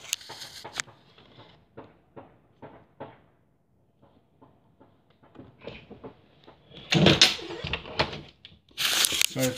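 An irritating door rattles and bangs nearby: a string of short, sharp knocks and scrapes at an irregular rhythm, starting faint, then swelling into louder clattering bursts near the end.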